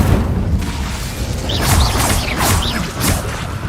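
In the Hogwarts Legacy video game, Confringo blasting spells go off as a run of loud booming bursts and whooshes over dense, rumbling game sound, with several impacts in quick succession.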